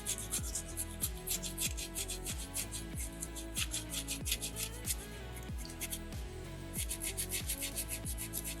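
Sandpaper rubs against a small soapstone bear carving in quick back-and-forth strokes, roughly two scrapes per second, soft, close and rhythmic, with a faint steady hum beneath and no talking.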